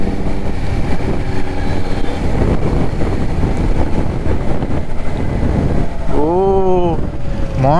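Cold wind roars steadily on a Triumph Street Triple motorcycle ride with the visor open, a constant broadband rush throughout, with a voice speaking briefly near the end.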